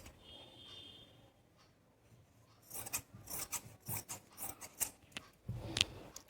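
Sharp scissors slice through salwar cloth while panels are cut for a four-kali salwar. After a quiet start, rapid rasping snips and cloth rustle build into a dense run of close, fairly loud cuts.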